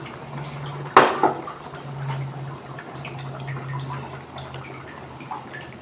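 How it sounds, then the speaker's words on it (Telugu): Chopped tomatoes drop into half-cooked moong dal in a pot with a brief wet splash and clatter, followed by quiet simmering and small kitchen sounds, close and fairly soft. "ఇందులో టమాటాలు అయితే వేస్తున్నాను"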